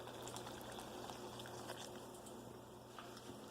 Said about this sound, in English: So now we take the water and we dump it in the yellow mix.